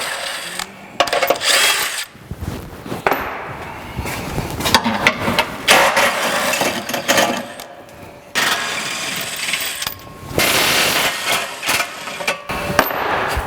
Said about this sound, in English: use an 18mm socket and remove the outer ones